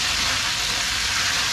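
Loud, steady sizzling and crackling of pork belly frying in hot oil, close up and continuous with no talking.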